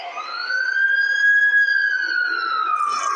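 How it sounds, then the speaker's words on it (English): An ambulance siren in The Amazing Spider-Man sounds a single rising and falling wail, loud and clear and close by, with no talk over it. "That's the ambulance I called."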